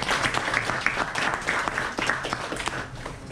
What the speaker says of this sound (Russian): третье место Экштейн Владимир, ваш аплодисмент.